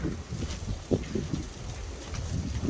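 Gusty wind outdoors as tornado weather approaches, rumbling low and buffeting the microphone in uneven bursts, loud and close with no other sounds.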